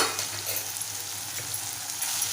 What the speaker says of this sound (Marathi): आणि छान मिक्स करून घेऊया